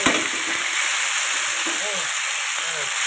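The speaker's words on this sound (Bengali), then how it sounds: "এবার দেখো আমি ফুলকপিগুলো সুন্দর করে ভেজে নেব" Green cauliflower florets frying in hot oil in a pan, a constant bright sizzle with occasional faint stirring clinks and soft background voices.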